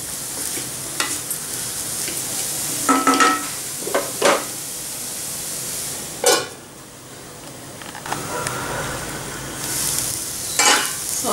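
Cabbage and green peas sabji sizzles in a pan, a steady frying hiss punctuated by several sharp spoon scrapes and clinks against the metal at irregular intervals.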